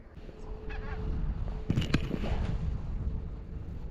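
A few loud goose honks close by, clustered in quick succession, over a murmuring outdoor background.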